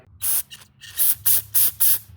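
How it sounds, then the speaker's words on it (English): Cleaner is sprayed through a Troy-Bilt Storm snowblower carburetor in six short, loud aerosol bursts, each a sharp hiss of about a quarter second separated by brief pauses. "So then I just give it a general spray."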